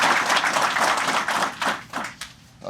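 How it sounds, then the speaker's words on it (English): An audience applauds at a police chief's swearing-in ceremony. A dense, steady wash of clapping from many hands thins out and fades toward the end. "if we can all just give him a round of applause for a heck of a job that's done."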